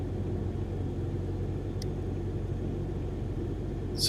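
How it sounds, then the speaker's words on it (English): A steady, loud low-pitched engine roar inside a Cessna 152 in flight drones without a break, with no voices over it. "Sounds like a jet engine."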